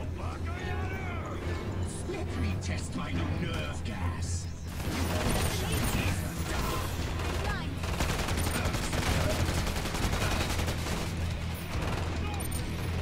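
Gunfire and grenade explosions from the shooter game Killing Floor 2 in a Paris massacre setting pound continuously, a dense loud barrage that swells sharply about midway, with a voice talking underneath.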